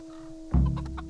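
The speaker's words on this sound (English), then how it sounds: "The chickens are right here." A chicken clucks in a short burst inside the medieval game Kingdom Come: Deliverance, close and moderately loud after a steady tonal hum.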